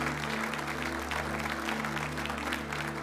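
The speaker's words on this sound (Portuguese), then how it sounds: "Esse Deus, pode aplaudir o nosso Deus." A congregation at a religious gathering claps together over a steady low hum, with a brief, moderately loud burst of applause lasting a few seconds.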